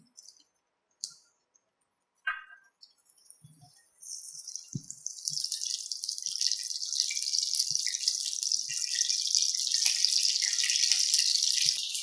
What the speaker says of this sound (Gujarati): તો હવે રાઈ તતળવા માંડી છે